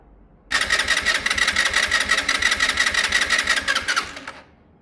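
A Sinnis Harrier motorcycle engine is being coaxed to run after carburetor tinkering; it cranks and catches, then chugs in a rapid, pulsing, uneven rhythm up close for about four seconds before dying away.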